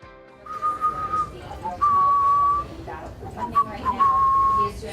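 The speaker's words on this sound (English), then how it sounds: "if you're working, you hear him whistling" A man whistles a tune in a newsroom, sounding several short, clear whistled phrases of fairly steady pitch over a low murmur of room noise.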